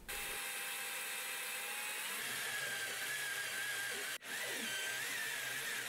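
A power drill with a step drill bit whines steadily at close range as it cuts through metal, with a brief pause partway before the drilling resumes.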